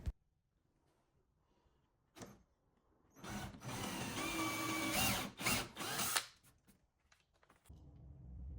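A power drill drives screws into the wooden skirt of a mid-century dresser base: a loud, close, continuous whir lasting about three seconds, with short revving bursts, preceded by a brief tool sound and quiet gaps.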